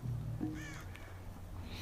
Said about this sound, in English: I can hear noises outside, like flapping birds